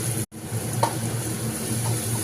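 Spice paste with salt and turmeric fries in a pan on the stove, giving a steady close sizzle with a brief stir, and nobody talks.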